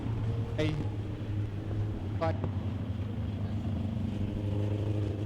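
Midget speedway race cars run laps on a night dirt oval, a steady engine drone over wind noise, with two brief rising and falling whines as cars sweep past.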